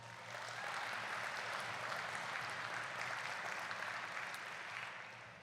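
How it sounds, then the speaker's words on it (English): Sustained applause from an audience at a community business awards ceremony in St. Thomas, a steady dense wash of clapping held throughout, fading slightly at the end, with no voices over it. "So round of applause for St."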